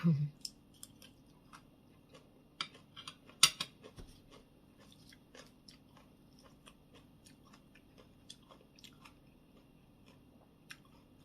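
Someone chews crunchy stir-fried egg with cucumber alongside papaya salad with carrot, close to the mouth; soft crunches and wet clicks repeat irregularly throughout, with a sharper bite or clack early on.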